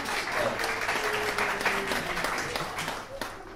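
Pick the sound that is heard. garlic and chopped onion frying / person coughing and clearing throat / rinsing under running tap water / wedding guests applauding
wedding guests applauding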